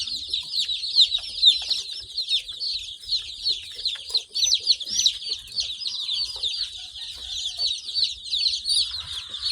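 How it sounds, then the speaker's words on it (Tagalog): Baby chicks peeping in a loose litter bedding pen on a rural farm, a dense, continuous chorus of many high, thin cheeps, close and steady, with no talk over it. "Ating mga sisiw."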